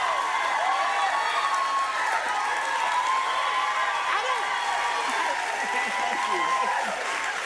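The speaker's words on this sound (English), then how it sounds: "And the crowd just clapping." A live comedy audience claps and cheers in a steady, dense wash of applause that holds for several seconds without letting up.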